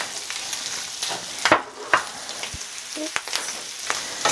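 Sausage and mushroom stems cooking in a pan, a close crackling sizzle broken by several sharp scrapes and knocks of a utensil stirring against the pan.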